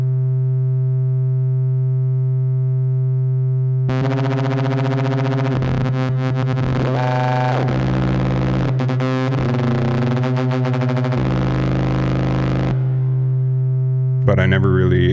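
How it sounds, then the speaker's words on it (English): A Behringer 2600 synthesizer with its oscillator saw waves cross-patched gives a harsh, metallic ring-modulation tone that warbles and sweeps over a steady low drone, then cuts back to the plain drone near the end. "I am cross patching the saws of the oscillators to get some like ring mod type effects."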